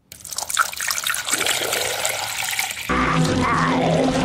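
Water trickles and splashes from a jar in a continuous, loud pouring stream that shifts to a fuller, steadier gush midway, close by and with no talk.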